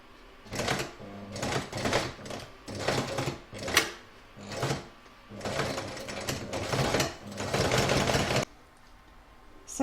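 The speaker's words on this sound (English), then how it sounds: "I'm actually going to stitch on top of the existing stitching underneath." An embroidery machine stitches over existing stitching on a crazy patch bag, giving a rapid mechanical whirring chatter in repeated bursts with brief pauses between them, then stopping near the end.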